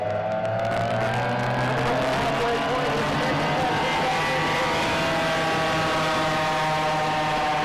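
A racing boat roars past at speed on Lake Tholocco, a loud sustained engine drone with shifting pitch filling the whole stretch, a voice talking over it.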